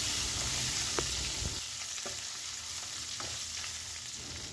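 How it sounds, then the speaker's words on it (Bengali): Boiled potato sticks frying in oil in a pan, a steady broadband sizzle throughout with a few soft stirring clinks, close and moderately loud, no talking. "এবার আলুগুলোকে আমি তেলের মধ্যে একটু ফ্রাই করে নিচ্ছি।"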